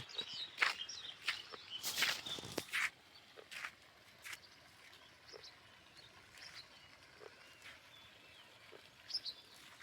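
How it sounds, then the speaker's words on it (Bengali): Scattered bird chirps and calls come from a distance in the quiet morning air, with a few rustling steps near the start. "পাখির কলকাকলির শব্দ"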